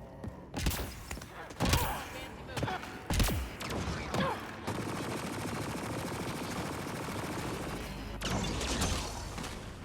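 Turret gunfire in the video game Mass Effect Andromeda: several sharp separate shots, then a steady stream of rapid automatic fire rattling at mid distance, with voices speaking over it.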